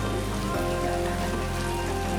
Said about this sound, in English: the heavy rain that's falling